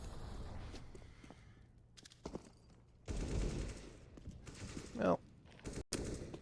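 Counter-Strike gunfire on the Mirage map during an ESL Challenger League match: bursts and volleys of rapid shots, some close and loud, others distant, under excited commentary from casters.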